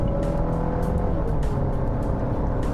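Steady engine drone and road noise inside a Nissan X-Trail holding cruising speed, a constant loud hum with no gaps.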